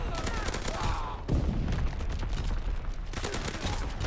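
Dense gunfire from shotguns and other weapons in an online Call of Duty WW2 match, sustained overlapping bursts and blasts that fill the whole stretch with no clear pause.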